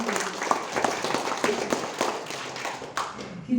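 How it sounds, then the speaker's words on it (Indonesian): Audience clapping at a HIPMI Kebumen work-program meeting, a ragged burst of many hands lasting a few seconds, moderately loud and fairly close. "Tepuk tangan dong."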